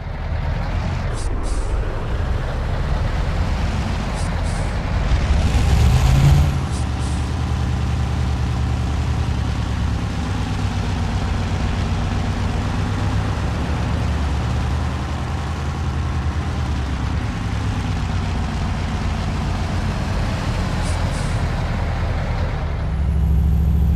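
An old Mercedes NG1631 truck in Euro Truck Simulator drives with a steady low engine drone and a brief air-brake hiss partway through, loud and continuous.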